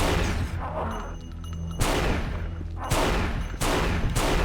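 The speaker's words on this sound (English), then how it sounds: "I'm blind firing here because it's like pitch black with the lights in my eyes." Blind firing in the video game Unreal in pitch darkness, several loud sharp gunshots each followed by a booming decaying tail, spaced about a second apart, over a constant low rumble.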